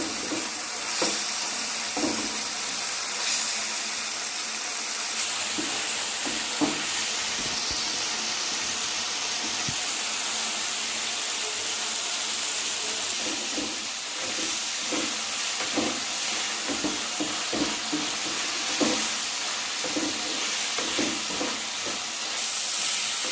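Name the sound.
prawns frying and being stirred in a pan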